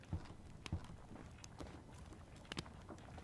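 Horse hooves clip-clop at a slow walking pace in the Scarlet Deer Inn video game, a few soft, fairly close thuds spaced about half a second apart over a faint windy background.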